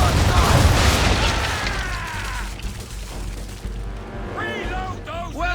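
A naval cannon broadside fires in Assassin's Creed III, heard as heavy booming blasts rolling into a long rumbling decay, followed by quieter creaking and whistling sounds near the end.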